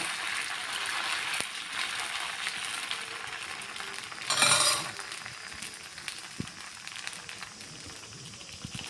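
Plain raw-rice dosa batter sizzling on a hot dosa griddle, a steady soft hiss running throughout with a brief louder crackling burst midway, close and fairly quiet.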